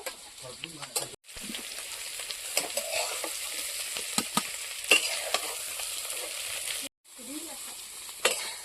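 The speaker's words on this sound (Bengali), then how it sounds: "এখন দিয়ে দিচ্ছি সেদ্ধ করা আলু, একসাথে ভেজে নেব।" Boiled potatoes and cauliflower frying and being stirred in a pan, a close, steady sizzle broken by scraping stirs, with two brief silences where the sound cuts out.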